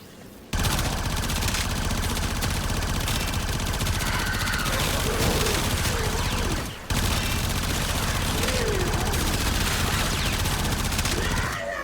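The Dara Vandal fires on full auto in the Warframe video game as a loud, unbroken stream of rapid shots with one brief gap partway through.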